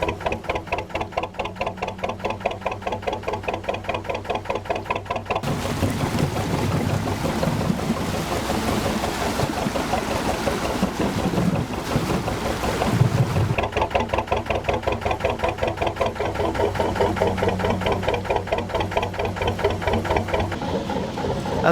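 A canal boat's diesel engine thumps with a fast, steady rhythmic chug, close and loud, as it runs ahead between locks. A stretch of heavier washing water and churning noise midway masks the beat before it returns.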